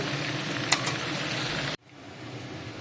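Kofta meatballs frying in hot oil give a steady, dense sizzle that suddenly drops to a quieter, softer crackle partway through.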